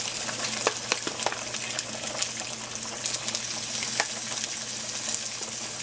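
Previously frozen tofu wedges sautéing in a pan, a continuous bright sizzle and crackle with occasional small spatters and clinks, steady throughout.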